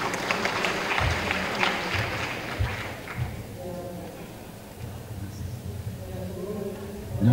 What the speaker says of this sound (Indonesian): Beri tepuk tangan untuk bicara tamu kita.